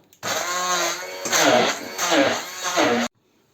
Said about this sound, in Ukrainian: відварила її і перебиваю блендером